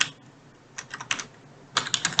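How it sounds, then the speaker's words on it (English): Computer keyboard keys typed in two short bursts of quick, close clicks separated by a quiet pause, with no talking. "So first I'm going to type the message"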